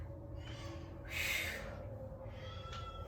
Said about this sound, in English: can you hear the cat singing for me?